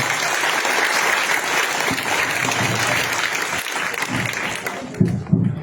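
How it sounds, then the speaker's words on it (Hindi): An audience at a children's performance claps steadily and loudly, the applause dense and sustained before thinning out near the end. "तालियां बजा रहे हैं।"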